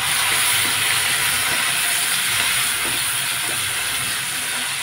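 Tomatoes sizzling as they drop into a hot pan with turmeric for omelette curry, a loud steady hiss that fills the whole moment with faint crackles, no talking.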